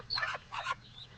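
Two short chirping calls from a mother hen with her two chicks, near and fairly soft, separated by a brief pause with quiet background.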